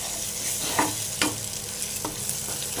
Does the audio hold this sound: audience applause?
no